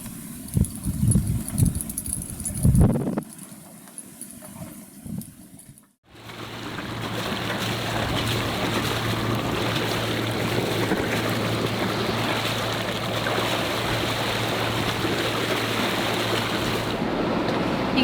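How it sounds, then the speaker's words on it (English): Short, sharp, choppy sea waves slap against a boat hull under a steady engine drone, with a louder buffeting patch at the start before the engine noise settles in. "which creates horrible short, sharp waves"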